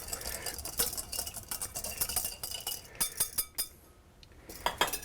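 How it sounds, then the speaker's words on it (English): A whisk rattles and clinks against a bowl as it stirs corn oil and cornstarch into a slurry. The taps come in quick, irregular bursts at close range, with a brief pause near the end. "I'm going to whisk that up to make a cornstarch slurry"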